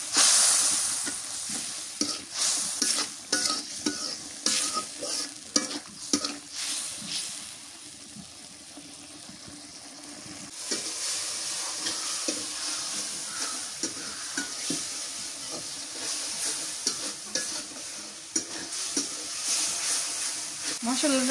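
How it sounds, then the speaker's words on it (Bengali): Chili powder and salt in a spice masala frying and being stirred, a steady broadband sizzle with frequent scraping knocks of a utensil against the pan, close and fairly loud, easing briefly midway before building again. "আর একটু মরিচের গুঁড়ো দিয়ে দিই, স্বাদ মতো নুন দিয়ে দিই, দিয়ে মশলাটা কষাই নিই।"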